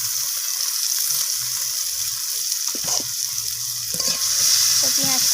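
Chopped onions sizzle in the same oil used for frying potatoes, a close steady crackle broken by stirring scrapes and a few clinks of the spatula, growing a little louder near the end.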